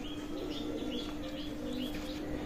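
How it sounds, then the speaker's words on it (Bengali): Teddy pigeon of Oman bloodline cooing softly in repeated low murmurs, with faint high chirps and a steady background hum, fairly near. "স্টাইলিশ কবুতর, ওমান ব্লাড লাইনের টেডি কবুতর"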